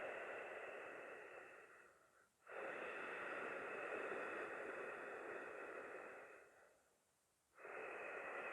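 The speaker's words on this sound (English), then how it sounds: "you can now start with that ocean-like sound in the back of your throat" Ujjayi pranayama breathing during a yoga flow, a steady ocean-like hiss from the back of the throat in long sustained breaths, with two brief pauses between breaths, fairly faint and alone.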